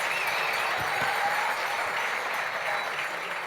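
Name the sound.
audience applause for Ben Cavé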